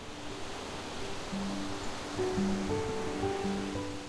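Ocean waves surge inland as a broad, steady wash of rushing water, a continuous roar with a slight swell in the middle and no voices.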